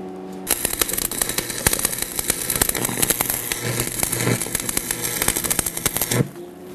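Tack welding a steel receiver hitch: a continuous crackling, sputtering arc with sharp pops, starting abruptly, running for about six seconds and cutting off, close and fairly loud with no talk.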